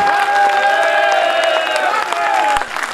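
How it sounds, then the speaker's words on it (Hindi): Audience in the hall at a 2018 Hindi humour and satire poetry gathering applauding and cheering, with clapping mixed with sustained shouted voices for about three seconds. "पूरे सदन की ताली यहां बजनी चाहिए"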